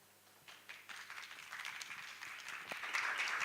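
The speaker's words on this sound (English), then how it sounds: "Please give the beautiful lady a big round of applause as she makes her way up on stage." Audience applause at an African innovation summit as a speaker walks on stage, faint at first and then building into steady, growing clapping from the crowd.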